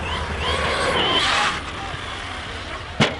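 Team Magic E6 J-Star RC monster truck running on 6S, its electric motor whining in a steady high-pitched drone as it flies through a jump, with a sharp thud from the landing near the end.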